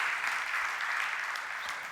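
A church congregation claps steadily through a Sunday service, a dense, even burst of applause with no voices over it.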